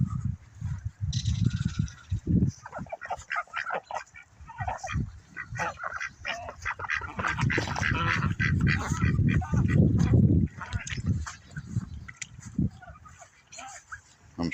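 Domestic ducks honk and quack loudly in a farmyard where chickens are also kept, the calls repeating in dense clusters through most of the stretch, with a voice talking over them at times.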